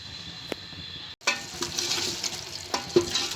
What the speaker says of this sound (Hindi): तो हम ये डाल के अच्छे से इसको भूनेंगे, बहुत अच्छे से भूनना है जब तक कि हमारा ऑयल ऊपर नहीं आ जाता